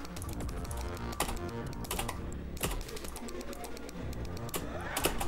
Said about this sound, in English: I hit the keyboard.